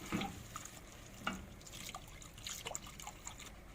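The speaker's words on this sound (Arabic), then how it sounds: "هنزل باللبن شوية بشوية واقلب" Milk trickles gradually into toasted flour in a pan for a béchamel, a faint, soft pouring with small splashes and gentle stirring clicks, quiet and close.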